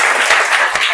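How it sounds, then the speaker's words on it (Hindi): An audience claps in a dense burst of applause that fills the whole moment, loud and close, with no break. "तालियां बजाओ इसके लिए, तालियां बजाओ।"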